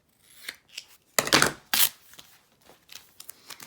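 Cutting a piece of material to size while making a glass palette, a few scratchy, crisp cutting strokes, two of them louder and longer, close up with no talking.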